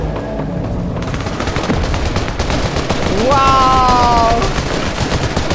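Rapid automatic gunfire bursts in Fortnite fill the scene loudly and continuously, with a rising whistling tone near the end and a voice exclaiming briefly over the shooting.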